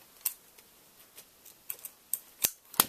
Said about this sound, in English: And I'm going to cut this tag off.